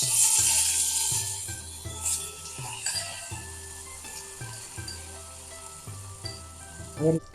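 Steady frying sizzle of urad dal roasting in a hot pan, with occasional stirring scrapes and a soft clink near the end.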